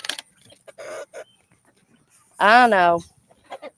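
Small bantam chickens and a rooster around a backyard doghouse give a clear drawn-out cluck or call, with softer scattered clucks around it and a brief spoken remark nearby.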